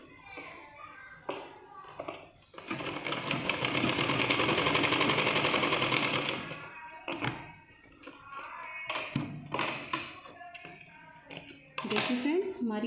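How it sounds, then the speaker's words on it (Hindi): Sewing machine stitching a small fancy dress for a Laddu Gopal idol doll, running in a steady continuous burst for several seconds, with shorter start-stop runs before and after and someone talking between them. "इस तरह से हमें इस पर सिलाई लगानी है।"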